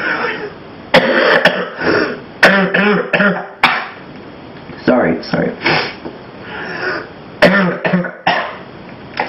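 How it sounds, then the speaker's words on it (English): Someone nearby coughs and clears their throat repeatedly in harsh, loud bursts, with a brief spoken word between the fits. "Some nasty sounding cough"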